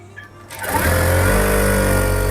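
A sewing machine stitches an Afghani salwar, its motor revving up after a quiet start into a steady, loud, continuous whir that holds to the end.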